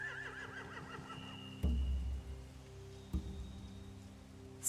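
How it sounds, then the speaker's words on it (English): Horses in The Walking Dead game give a wavering whinny at the start, followed by a couple of low thuds and snorts over a quiet ambient backdrop. "They have horses."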